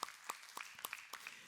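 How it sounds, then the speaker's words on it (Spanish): A church congregation claps at an irregular, scattered pace, the sharp hand slaps sounding sparse and fairly faint. "un fuerte aplauso."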